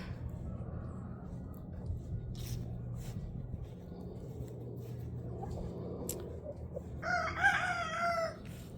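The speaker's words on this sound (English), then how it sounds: "Rooster over there talking" Chickens cluck softly in the background, then a rooster lets out a loud crow nearby toward the end.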